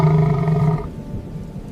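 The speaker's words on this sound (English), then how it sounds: "The lions have capitalized on the chaos, and the auditory silence is now broken by their victory roars." A lion gives a deep, loud roar that holds steady for under a second, then breaks into lower grunting rumbles, alone with no voices.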